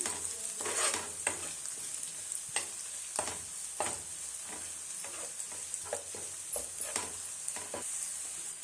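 Curry leaves hit hot oil for a garlic rasam, making a soft continuous sizzle broken by sharp spoon scrapes and stirring clicks every second or so, close but fairly quiet, with no voices.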